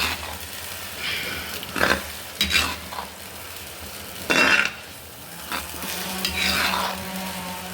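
Homemade herbal oil of changalamparanda frying in a pan is stirred, giving a soft continuous sizzle broken by several loud scraping strokes of a spoon against the pan, close by with no talking.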